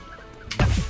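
Evil birds swoop in to attack in A Hat in Time, a short burst of loud squawking and gobbling clucks that jumps up sharply after a quieter lead-in.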